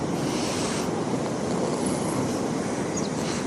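Large ocean waves at Calangute beach in Goa, India, rolling in as a constant, loud, broad surf roar mixed with wind buffeting the microphone, with no voices over it.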